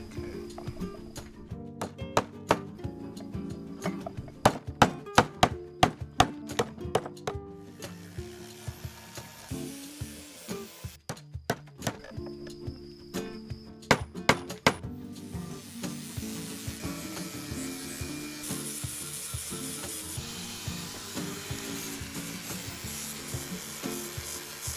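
Light hand sanding of an olive wood piece, a steady soft rubbing hiss broken by scattered sharp knocks and clicks, close by and with no talking.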